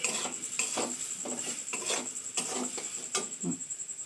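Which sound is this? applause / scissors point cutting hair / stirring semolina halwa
stirring semolina halwa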